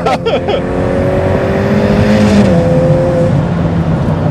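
A Ferrari F8 Tributo engine during a drift session: a loud, sustained roar with rising and falling revs and a few quick shifts, close by and overwhelming the cabin.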